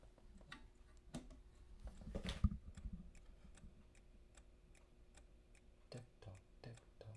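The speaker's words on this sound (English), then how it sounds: "Can you hear the clock going?" A clock ticks in a steady, regular rhythm, faint and close by, with a brief burst of handling noise partway through.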